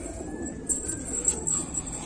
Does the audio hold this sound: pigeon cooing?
yes